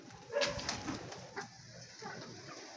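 Pigeons coo softly and intermittently nearby in a short, quiet stretch.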